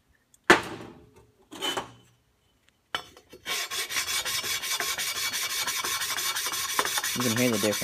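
A stoning block rubs across the gasket surface of a 6.0 Powerstroke diesel engine, giving a dry, rasping scrape. Two short strokes come first, then steady, continuous back-and-forth rubbing, close and fairly loud.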